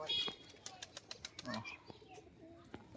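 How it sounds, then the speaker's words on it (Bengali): Flapping wings of highflyer pigeons lifting off from a home loft make a quick run of soft, rhythmic beats, faint and fairly close, with light background noise. "এই দেখুন উপরে কটা উঠছে পায়রা"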